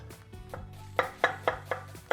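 A knife slices red and white onions into thin half-moon strips on a cutting board. A few soft cuts come first, then five sharp, evenly spaced chops ring out close by.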